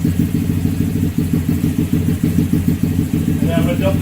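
A Honda Grom motorcycle fitted with a quick shifter sits bouncing on its two-step rev limiter at 6,600 RPM, a loud, close, rapid stuttering engine pulse repeating in steady bursts throughout.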